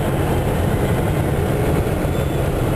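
Continuous heavy rumble of a long freight train with loaded coal cars rolling past nearby, steady and loud with a faint rhythmic clatter of wheels.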